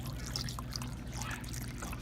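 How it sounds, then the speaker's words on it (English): Water pours steadily into a crock pot holding jars for a plantain salve infusion, a continuous splashing trickle heard close and fairly loud for the whole stretch. "Then you're going to fill up with water about halfway."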